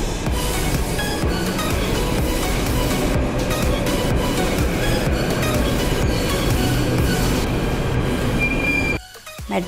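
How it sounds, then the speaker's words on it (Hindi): A Delhi metro train arriving at a station rumbles loudly and steadily with squealing wheels and rail clatter, continuing for several seconds before abruptly cutting off near the end. "मेट्रो आ गई है"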